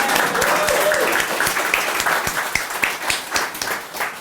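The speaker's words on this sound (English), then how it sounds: "It's another round of applause." Audience applause at a Writers Guild of Bloomington reading event, a steady patter of clapping mixed with scattered separate claps, moderately close and sustained, with faint voices underneath.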